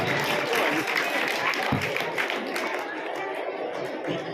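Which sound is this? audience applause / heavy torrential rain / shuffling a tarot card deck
audience applause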